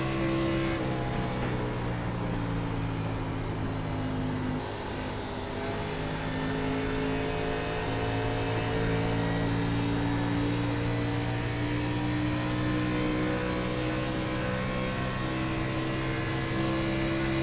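Race car engine in iRacing at Kentucky, an Xfinity car held at a steady high-rpm drone with layered harmonic whine, sustained and loud throughout with slight pitch dips as the throttle eases and returns.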